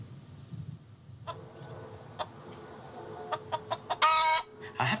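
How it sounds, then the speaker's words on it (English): Chickens cluck and squawk in short bursts over a low background rumble, with a louder cluster of calls near the end. "house chickens, because they make an awful lot of noise"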